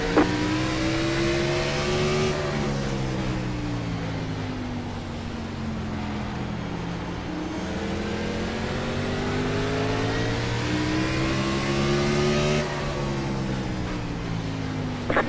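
Race cars lapping Martinsville in iRacing, one engine loud and near, revving and shifting with rising and falling pitch sweeps, heard alone without talk.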